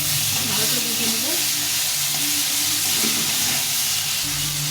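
Green chillies and chopped tomato fry in a pan, giving a loud continuous hissing sizzle with faint stirring underneath, steady throughout and close up, with no talk.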